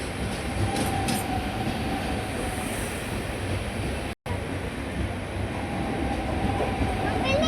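A local commuter train runs through a city past tall buildings, a loud steady rumble of wheels on rails with faint squeals, heard from aboard close up.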